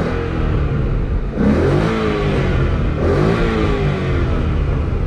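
Ford Mustang GT 5.0 V8 with an MG Motorsport active exhaust held closed, revving in two loud rising pulls around a steady running engine, close and continuous with no talk.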